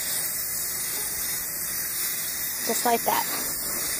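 A can of spray paint sprays onto metal shelves wet with water, giving a steady loud hiss that runs throughout. A voice speaks briefly near the end.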